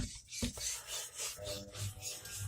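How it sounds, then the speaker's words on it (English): A kitchen knife drawn across a fine Japanese Atagoyama natural whetstone after a 1000-grit stone, giving close, steady back-and-forth rasping strokes in a repeating rhythm with no talking. "Like I usually just finish this knife on the stone because it refines it really good."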